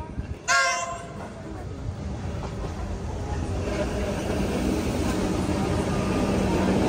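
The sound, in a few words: metro train arriving at Melbourne station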